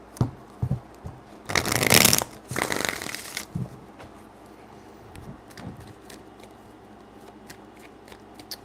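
Tarot cards shuffled by hand in a few close, crisp riffling bursts, the loudest two back to back early on, then lighter taps and rustles of handling.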